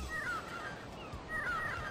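Crows in the Grandia video game caw in a few short harsh calls, moderately distant over a steady breezy ambience on a ship's deck.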